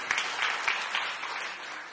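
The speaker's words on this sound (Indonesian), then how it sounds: "Ayo yang mau tepuk tangan lebih meriah lagi" A church congregation applauds during a sermon, a lively sustained patter of many hands with a few sharper claps standing out early, moderately distant and slowly fading.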